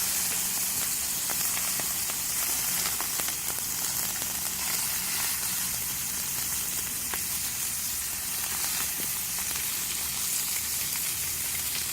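Fish, barracuda, cooking on a moistened plancha, giving a steady broad sizzle and hiss of steam with faint crackles throughout.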